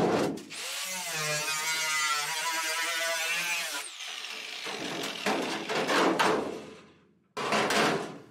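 A power cutting tool whines steadily through the metal waveguide of a microwave oven for about three seconds, followed by shorter grinding and scraping bursts, close and loud.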